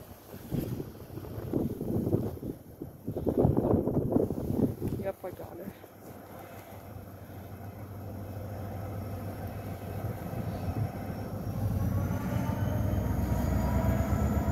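A Norfolk Southern C62 freight train led by an SD40-2 locomotive passes in the snow, its low rumble swelling and holding steady with wind noise after talk at the start.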